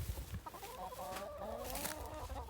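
Backyard garden chickens clucking softly in a small group, a few overlapping short calls with some low handling noise close by.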